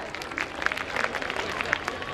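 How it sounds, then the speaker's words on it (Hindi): An audience at a children's annual school function breaks into brisk clapping, dense and steady for a couple of seconds with crowd murmur mixed in. "एक बार उनके स्वागत के लिए जोरदार तालियां हो जाए।"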